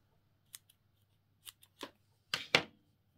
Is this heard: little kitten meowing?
no